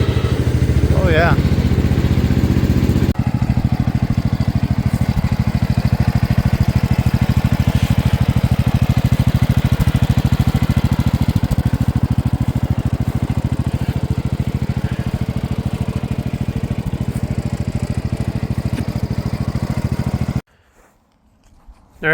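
A Gravely 816 garden tractor engine runs hard while driving, a loud, steady chugging drone close by that holds for about twenty seconds before cutting off abruptly into near silence.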